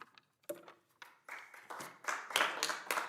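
Scattered claps from the public gallery at a Yucaipa city council meeting start sparse and hesitant, then build into a fuller ripple of applause, fairly faint and heard without any talk.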